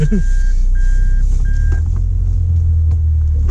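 Three steady electronic beeps sound at even intervals over a low engine rumble, with the vehicle hum continuing after the beeping stops.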